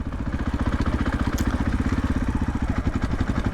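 An Athena Get SX1 motorcycle engine runs loud and close while the rider shifts into third gear, a steady, rapid chugging pulse with a slightly rough, choppy edge and no throttle.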